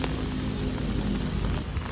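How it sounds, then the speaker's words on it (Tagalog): Steady rain falls outside on a street in Shilin, Taiwan, a dense, even hiss of drops on hard surfaces, continuous and fairly close with no voices. "Umuulan pa rin sa labas."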